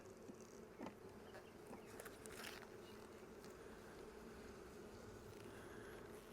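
Honey bees hum in a faint, even drone around a hive super during a Father's Day inspection, a soft steady buzz with small clicks and rustles from handling frames.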